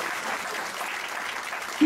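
A church congregation claps in a short burst of dense, even applause, moderately near.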